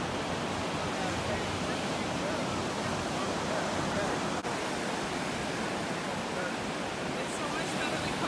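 Steady broadband wash of surf on the beach at St. Augustine, Florida, a constant roar of breaking ocean waves with wind noise, no distinct individual wave crests standing out.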